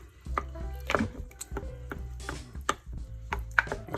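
Spaghetti sauce is stirred in a crock pot, with a utensil scraping and knocking against the pot in uneven bursts of clicks and clatter, close and moderately loud, with no talking.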